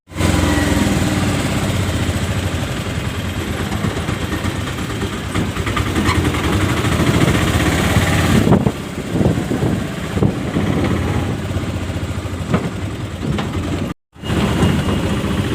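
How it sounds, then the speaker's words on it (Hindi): Auto rickshaw ride through the streets of Shirdi, its small engine droning steadily and loudly up close for most of the ride, with a rougher, uneven stretch toward the end and a brief cutout. "और ऐसे हम लोग जा रहे हैं मुंबई के शिरडी के ऑटो में बैठ के ऑटो राइड ले रहे हैं"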